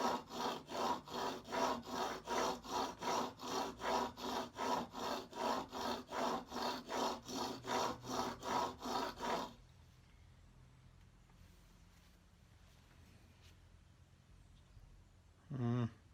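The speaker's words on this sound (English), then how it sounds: "I'm going to give it a go on the whetstone, as there's quite a bit to be taken off." A small vintage chisel is rubbed back and forth on a whetstone in steady, even strokes for about nine seconds, close and fairly loud, then stops, leaving quiet room tone with a brief knock at the end.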